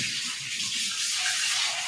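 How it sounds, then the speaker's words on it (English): Onion broth poured into a boiling steam pot, a steady soft rushing splash of liquid with a faint hiss, close and continuous, no talking. "pour this into my boiling steam pot"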